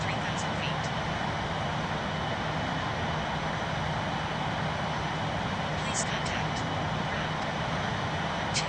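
Airliner engines roar steadily through a takeoff roll, likely in a flight simulator, as a constant broadband drone with a few faint clicks near the end.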